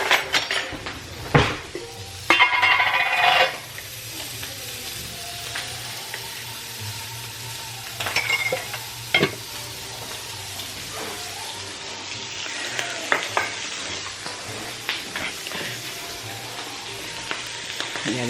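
Sausages frying in a pan at home, with a steady sizzle broken by clinks and knocks of pots and utensils, and a loud burst of spattering early on.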